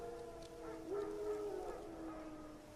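Wild dogs howl in The Witcher 3: Wild Hunt, a single faint, drawn-out, wavering howl that rises and holds before fading, heard alone against a soft ambient background.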